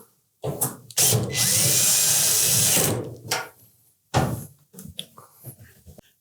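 A power drill runs in a sustained whir for about two seconds, driving screws into a Samsung dryer panel during a drum roller replacement, followed by short clicks and handling noises, with no talk.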